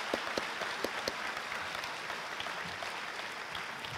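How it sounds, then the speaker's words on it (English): A high school athletic awards crowd gives a soft, fairly distant round of applause, a steady wash of many hands clapping with a few sharper claps near the start, and no talking. "So how about a round of applause for that?"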